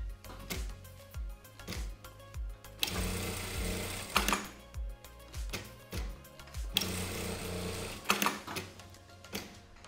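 Sewing machine stitching the finishing seam on a retro bikini top, close-up bursts of rapid mechanical stitching separated by short pauses, clicks and handling of the fabric.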